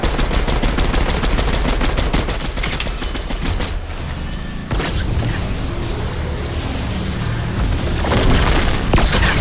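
Rapid gunfire and booming blasts from a Fortnite match, opening with a fast, loud burst of automatic shots followed by heavy explosive rumbles and more shooting near the end.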